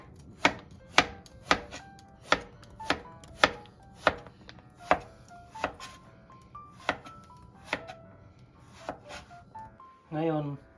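Knife chopping bottle gourd (upo) on a cutting board, a steady run of about a dozen sharp, evenly spaced thuds close by, with a brief rattling rustle at the end.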